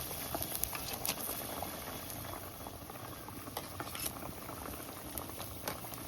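A thin sea fish curry gravy with potatoes bubbles at a steady boil in a pot, giving continuous close bubbling and popping with scattered small pops and clicks throughout.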